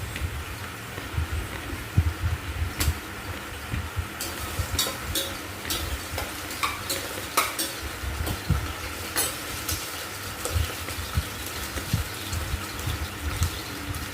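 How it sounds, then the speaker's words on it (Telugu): Potatoes frying in a pan, a soft continuous sizzle with scattered crackles and occasional scraping or stirring knocks, fairly quiet and close, with no voices. "ఆలు దుంపలు ఫ్రై అవుతున్నాయి."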